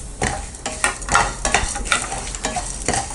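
Black pepper and sesame seeds dry-roasting in a pan, close rhythmic scraping and stirring strokes about twice a second over a light crackling sizzle, with no talking.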